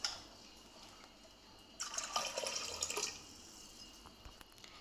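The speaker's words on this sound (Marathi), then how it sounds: "हे चणे बुडतील इतकं पाणी आपल्याला टाकून हे शिजवायचे आहेत" Water poured over chickpeas in a cooking pot, a quiet, close stream of liquid splashing for about a second amid a faint background hiss.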